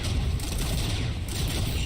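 Continuous dense burst of rapid gunfire from a weapon in the video game Risk of Rain 2, loud and sustained with heavy low-end rumble and no pauses.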